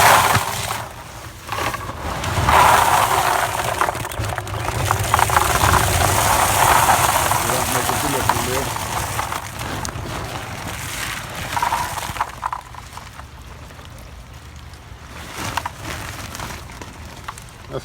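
Roughly 6,000 plastic bio balls poured into a 20 to 25 gallon container for a DIY koi pond filter, a dense clattering rattle of hard plastic pieces, loud and continuous at first, then thinning to sparse clicks.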